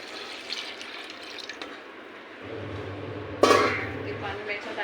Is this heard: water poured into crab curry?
yes